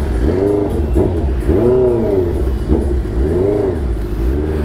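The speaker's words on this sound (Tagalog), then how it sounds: "tinesting lang naman natin itong big bike mga par" Big bike motorcycle engine in traffic, revving repeatedly in rising and falling waves, loud and close with a clattering idle underneath.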